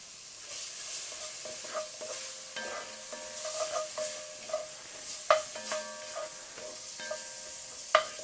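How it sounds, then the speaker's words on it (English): Finely minced onion frying for étouffée, a light sizzle under repeated spoon clinks and scrapes against the pan, with a few sharper knocks near the end and no talking. "So we'll add the onion in."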